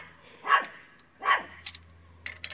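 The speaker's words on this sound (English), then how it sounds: "I decided to let my little dog outside, and she does not like the neighbors." A small dog barks outdoors at the neighbours, two sharp separate barks about a second apart, moderately close, followed by faint clatter in the background.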